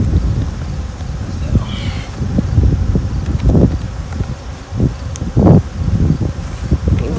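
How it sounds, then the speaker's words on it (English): Honey bees buzz around hives being treated and moved, a faint insect drone running beneath louder handling noises. Boxes bump, thud and rustle close by while people work among the hives. "We'll shake these bees out"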